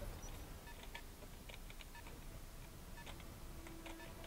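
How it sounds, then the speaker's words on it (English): Electronic beeping in the mech combat game Battletech, a scattered series of short, faint tonal bleeps at irregular intervals over a low game background hum. "What is this beeping noise?"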